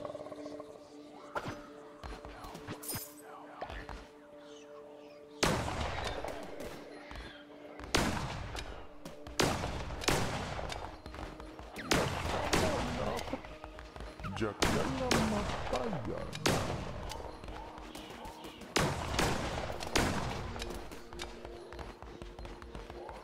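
Gunfire from a gun in the video game Cult of the Lamb rings out as repeated loud, punchy shots in uneven bursts, layered over a faint game hum and clattering effects.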